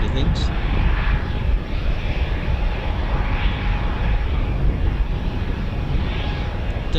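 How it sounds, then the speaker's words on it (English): An Embraer jet's engines give a steady, loud, broad roar that holds evenly throughout at RAF Coningsby, with no gaps or clear voices over it. "It does have a lovely sound, this Embraer."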